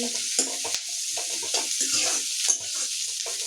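Onion frying in a pan with mustard seeds and chilli gives a bright, continuous sizzle broken by repeated stirring scrapes, close and fairly loud.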